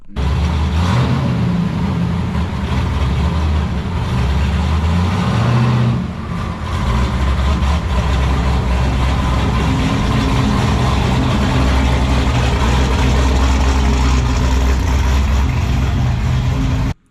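A twin-turbo LSX-swapped Cadillac Escalade engine rumbles continuously and loudly up close, a deep steady drone that holds throughout with slight shifts in revving.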